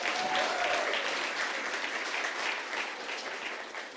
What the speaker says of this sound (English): So let's give our girlfriends a big round of applause.